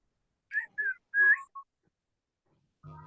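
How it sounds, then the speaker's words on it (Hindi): A person whistles several short, clear notes in a classroom, loud and close, followed by a brief low noise at the end. "सीटी मत बजाओ"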